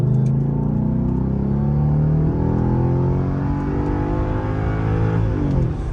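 A Genesis Sedan with a 4.6 engine and a 9Drive throttle controller revs hard, the loud, close engine note climbing and falling continuously without any talk.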